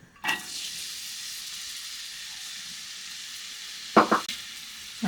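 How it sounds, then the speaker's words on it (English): Fennel and leek sautéing in a pan with a steady, even sizzle throughout, joined near the end by a few quick scraping stirs. "We'll start by sauteing the fennel and the leek."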